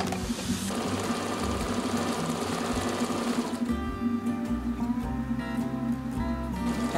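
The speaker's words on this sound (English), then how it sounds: "And you sew all the way down to the tip." A sewing machine runs steadily for about seven seconds, stitching apron ties down a seam to the tip, with a continuous rapid mechanical whir at a close, even level.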